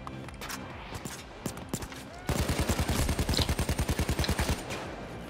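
In Payday 2, sniper gunfire starts as scattered sharp shots and then becomes a long, steady, rhythmic run of rapid shots, loud and close over background game noise.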